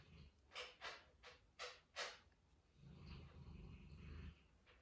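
A Labrador Retriever sleeping and dreaming in a crate gives several faint snorting, snoring breaths in a rhythmic run, then a softer rumbling stretch.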